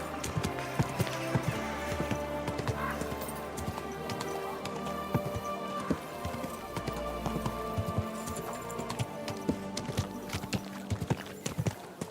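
Horse hooves clip-clop steadily in Kingdom Come: Deliverance, a rhythmic run of close, fairly quiet hoofbeats over game ambience that continues for the whole stretch.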